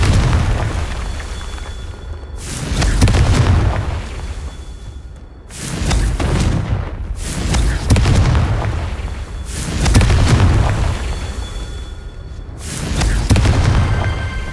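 Confringo fire spell blasts in Hogwarts Legacy: loud, deep booming explosions repeating roughly every three to four seconds, each swelling and then rumbling away, with no talk.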